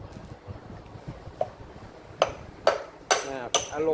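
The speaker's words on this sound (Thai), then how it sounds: "ตอกลูกสูบนะครับ" Several sharp knocks of wood tapping a seized, rusted piston down into the cylinder of a Honda GX160 engine strike at uneven intervals, growing louder toward the end, over a quiet background murmur.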